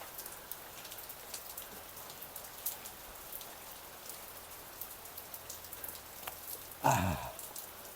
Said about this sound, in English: It just started raining just now.